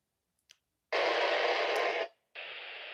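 Handheld radio fitted with a stubby antenna keying up a repeater: a faint click, then a steady loud burst of static-like hiss lasting about a second, a brief gap, and a second sustained hiss.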